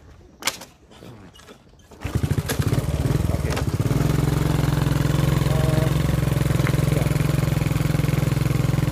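A 1982 Honda C86 motorcycle is started after a few clicks and thumps, then settles into a steady, close idle with a low, even putter. A person says a word or two early on.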